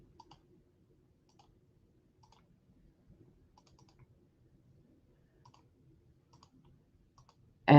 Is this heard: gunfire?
no